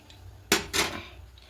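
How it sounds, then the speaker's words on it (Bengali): A kadai set back down on the stove while cooking an aloo paneer curry, giving two close, sharp metallic knocks about a quarter second apart, each ringing briefly before fading into a quiet room. "এবার কড়াইটা আবার বসিয়ে দিলাম"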